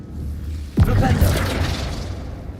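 The Flipendo spell is cast in the video game Hogwarts Legacy, a sudden booming magical blast that fades into a rumbling tail over a low background hum.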